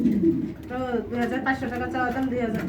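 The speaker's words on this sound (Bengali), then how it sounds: "এক জোড়া কবুতর রয়েছে" A pair of pigeons at a pigeon sale coo in soft, repeated throaty phrases close by, with a voice-like murmur around them.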